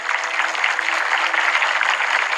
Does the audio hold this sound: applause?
yes